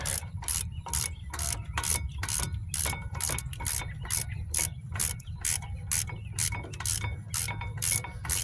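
Wrench ratcheting on a front brake bolt of a 2015 Chrysler 200, a steady run of quick, regular clicks close by with a low rumble underneath and no talk.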